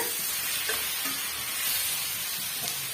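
Macaroni with tomatoes sizzles in a hot pan while being stirred, a steady close-up frying hiss with soft scraping and bubbling throughout.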